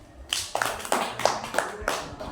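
Children clap their hands for a classmate during a classroom rhyme session, giving a run of about six sharp, fairly evenly spaced claps over a faint background voice.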